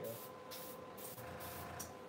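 An airbrush hisses steadily as it sprays paint into and around the exhaust of a foam FMS P-47 warbird model, several short bursts close up, with faint background speech.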